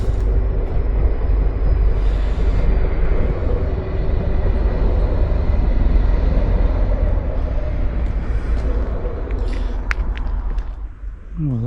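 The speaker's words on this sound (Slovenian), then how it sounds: "Gre vlak za Ljubljano." A Stadler passenger train bound for Ljubljana rumbles past near Kamnik, Slovenia, a continuous loud rolling roar that swells and then eases off toward the end, with a few faint clicks over it.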